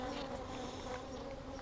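Honey bees swarm around an open hive, a dense continuous buzzing hum close by, steady and agitated throughout with no voices.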